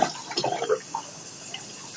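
Water from a bathroom sink tap runs into a glass, a close trickle and splash with a few drips, fairly quiet and with no talking.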